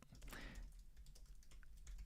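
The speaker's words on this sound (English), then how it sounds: "But I'm typing it now, and I'm posting that" Quick, faint keystrokes clatter on a computer keyboard at close range, an irregular run of soft clicks with no one speaking.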